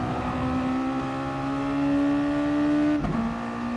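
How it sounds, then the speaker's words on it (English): A Mazda MX-5 Cup car in a sim race at Brands Hatch GP screams at high revs, its engine note climbing steadily and loud before a sharp drop as the driver shifts and brakes, then holding again. "Using all of the revs."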